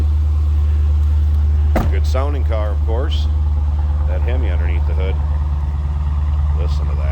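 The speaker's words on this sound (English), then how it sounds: "Good sounding car, of course. That Hemi underneath the hood." A 2016 Dodge Challenger R/T Scat Pack with a Hemi V8 idles with a steady deep low rumble close by, while someone talks over it.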